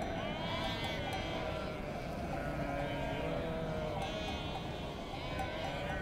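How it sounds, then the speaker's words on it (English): A flock of sheep herded by a shepherd in rural Turkey bleats constantly, many overlapping calls forming a steady, close chorus with no talking. "Sheep are easy prey,"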